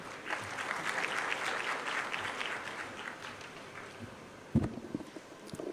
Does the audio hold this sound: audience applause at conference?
yes